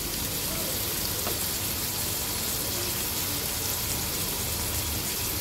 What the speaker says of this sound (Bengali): এবার পেঁয়াজটাকেও 2-3 মিনিট ভেজে নেব